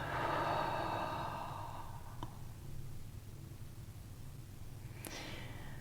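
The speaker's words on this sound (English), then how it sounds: "and breathing out." A slow, soft exhale during a guided breathing meditation, a long airy breath fading over the first two seconds, followed by quiet room tone and a faint click.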